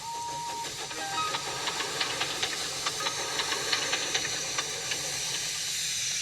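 A steam tank engine puffing into a station gives off a continuous loud hiss of steam, with faint rhythmic chuffs and light clanks running beneath it, alone without any voices.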